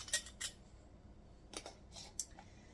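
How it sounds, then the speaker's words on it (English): Metal lid and ring fitted onto a glass canning jar of mac and cheese, a few quick, sharp metallic clicks and scrapes close by in a quiet room, no talking. "Now I'm going to put the lid on it and the ring."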